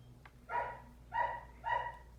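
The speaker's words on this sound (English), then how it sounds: "I have to get this dog to come in because she's crying." A dog indoors cries to be let in, giving three soft whining barks at an even pace, faint and somewhat distant over a low steady hum.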